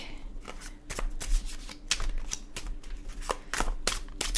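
Tarot cards shuffled steadily and briskly, a dense run of crisp riffling snaps close by, continuing without pause.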